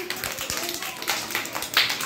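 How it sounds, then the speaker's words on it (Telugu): A scattering of children's hand claps rings out in quick, uneven bursts, like a small school group applauding briefly. "క్లాప్స్ కొట్టండి అమ్మా"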